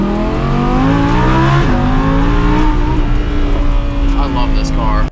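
A Lamborghini Huracan engine runs loud and close, revving with rising and falling pitch sweeps throughout, its steady drone continuing until it cuts off abruptly.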